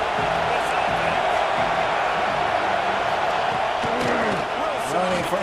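A stadium crowd in the College Football 26 video game, UTEP vs Texas, makes a dense, loud, continuous roar. Faint tonal calls and a voice sit under the wash of noise.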